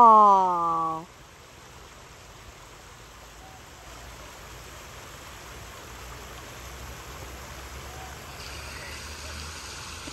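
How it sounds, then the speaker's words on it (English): A courtyard waterfall spills into a koi pond at a resort, making a steady, even rush of falling water that fills the scene, close and constant. A brief voiced sound comes just before it. "The koi have their own waterfall."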